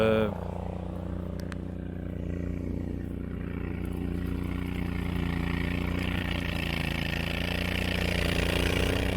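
A steady mid-pitched engine drone from an H27 Panther slope mowing machine runs loud and constant after a brief start, with someone talking over it.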